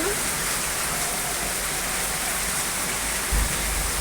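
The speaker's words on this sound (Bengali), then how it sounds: "বৃষ্টিটা দেখো প্রচুর পরিমাণে বৃষ্টি হচ্ছে" Heavy rain pours down during a thunderstorm in a steady, loud, dense hiss that continues without pause throughout.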